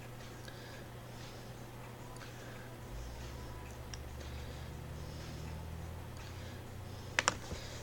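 A computer keyboard is typed on quietly, giving soft, faint key clicks over a low steady hum, with a couple of sharper taps near the end.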